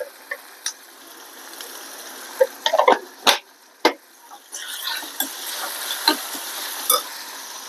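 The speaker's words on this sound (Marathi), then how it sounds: "आता आपण हे फ्राय करून घेऊया सगळं। यात आपण किंचितसं मीठ टाकून घेऊया।" Vegetables fry in a pan with a pinch of salt for a veggie masala Maggi: a faint low sizzle under sharp intermittent clicks and scrapes of stirring, scattered irregularly throughout, with no voices.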